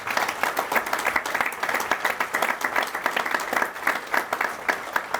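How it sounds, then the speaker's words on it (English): Outdoor audience applause at a Memorial Day ceremony at Fort Custer, a steady, dense crowd of clapping hands sustained evenly throughout, fairly close and uninterrupted by speech. "let's give them another big round of applause"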